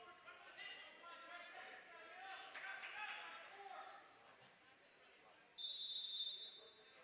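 A referee's whistle shrills partway through, one sharp, sustained blast at a varsity high school wrestling match against Mahwah, rising over crowd chatter and a commentator talking in a gym.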